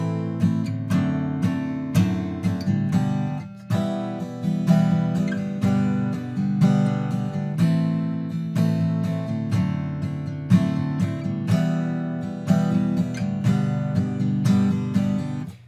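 Solo acoustic guitar strumming chords at an even, unvarying volume. The steady rhythmic strums are played alone and close, with no change in dynamics.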